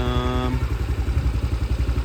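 Homemade ATV with a 200cc engine running steadily, a close, loud, even chugging idle with rhythmic mechanical clatter and a brief tonal whine at the start.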